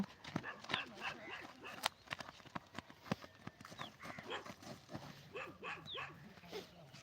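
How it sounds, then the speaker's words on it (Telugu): A dog barks several times in short, sharp bursts on an open police recruitment training ground during Sunday events, mixed with scattered outdoor crowd noise. "అరే కుక్క ఉన్నది ఇక్కడ"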